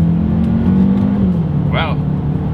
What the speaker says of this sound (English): let's go ahead and do that paddle shifter test, and let's see how quickly these things will react for us here